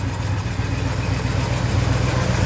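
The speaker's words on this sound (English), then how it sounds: "Car sounds great." A 1967 Pontiac Le Mans engine idling steadily just after startup, a close, loud, even low rumble with no talk.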